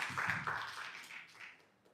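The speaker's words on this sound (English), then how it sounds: "Let's give another round of applause to Dr." Audience applause for a speaker at a traditional medicine research event: a short, moderate patter of many hands clapping together, fading out over two seconds.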